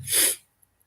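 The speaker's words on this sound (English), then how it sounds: "now I got the sneezes" A single sharp human sneeze, loud and close, bursts and fades within half a second, followed by near silence.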